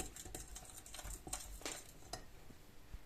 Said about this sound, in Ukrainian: Муку ми додаємо не повністю всю потрошки, щоб гарно-гарно перемішати